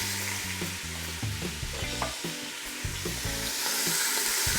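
Beef searing in hot oil inside an Instant Pot, a steady close sizzle and crackle running through the whole stretch, with occasional stirring scrapes.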